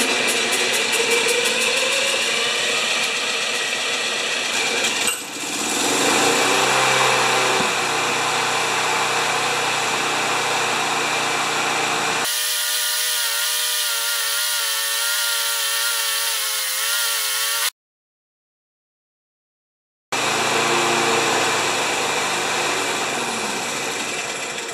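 A rare Tecumseh 6.5HP VLV lawn mower engine cranks and then runs on choke, giving a loud, continuous, buzzing roar. Its pitch and tone shift partway through, and then there is an abrupt gap of silence before it resumes.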